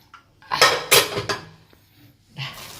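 A pressure cooker holding payasam is opened after its whistles have finished, with a few close, loud metallic clanks and rattles of the lid and vessel, then a brief pause and one more softer clatter.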